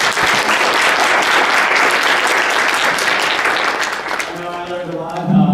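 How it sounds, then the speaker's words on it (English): Audience applause at an evening panel on the Affordable Care Act, loud sustained clapping that fades near the end as a voice begins speaking. "Let's give them a big round of applause."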